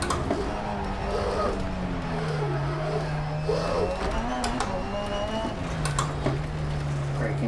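Rallycross race cars in DiRT Rally 2.0 launch off the start line, engines droning and rising in pitch as they shift through gears over a gritty rumble, with a voice murmuring faintly underneath.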